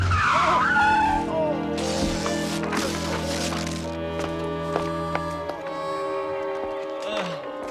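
A car skids and squeals its tires to a stop during a comic chase through New York, with engine noise, music and voices around it.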